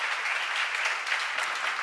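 Applause from a church seminar congregation, a steady dense clatter of many hands clapping together for about two seconds, fairly loud and with no talk over it.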